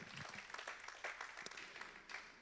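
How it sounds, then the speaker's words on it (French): Brief applause from an audience at a talk on sleep apnea screening, a soft, fairly faint patter of scattered claps with a few sharper hits and a murmur of voices under it. "Un petit applaudissement quand même pour elle."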